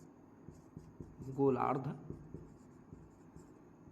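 Chalk scratches briefly on a classroom board, a short close stroke of writing in the middle while a teacher's voice continues speaking around it.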